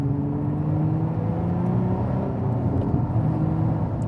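A Lotus Emira sports car engine burbles with a low, steady rumble while rolling at parking speed, heard close and continuous with no talk over it.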